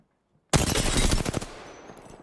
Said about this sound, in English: Taking fire. Shooting.